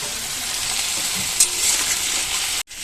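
Potato curry cooks in a pan with a continuous close hiss of frying and light stirring, ending in a sudden brief cut.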